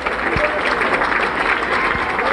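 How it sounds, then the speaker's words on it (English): A basketball game crowd at a 1996 Class B high school tournament in Bangor applauds a player, a steady wash of clapping with a few thuds heard from the stands. "Eric Raymond gets a nice hand"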